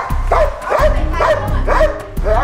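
Several dogs from a security company barking repeatedly at close range, about four or five barks in a steady rhythm, with some yipping.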